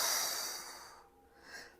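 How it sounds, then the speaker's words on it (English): Breathing during a Pilates abs exercise: one loud, airy exhale that tapers off over about a second, followed by a short, softer intake of breath, close and alone without talk. "Breathe in, breathe out."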